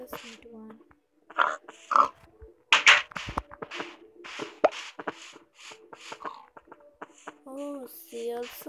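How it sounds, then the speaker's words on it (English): Minecraft pig oinking in short grunts scattered among game sounds, with a person talking over them at close range. "I just went here and pig spawned in my area."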